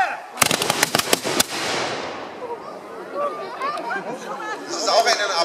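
A black powder muzzle-loading gun firing at a historical demonstration, heard as a sharp burst of loud cracking reports in quick succession, then fading into crowd chatter and murmuring voices.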